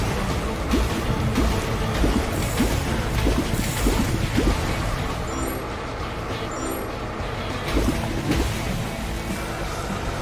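Water spraying from a hose in a Paw Patrol video game, a steady loud hiss and rush of water lasting throughout, with no talking.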